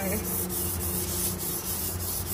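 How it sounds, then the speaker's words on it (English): Continuous, steady abrasive scraping of sandpaper on body filler on a Nissan 180SX panel, close and loud without pause. "I'm just going to keep sanding to get a nice smooth flawless edge on this bog"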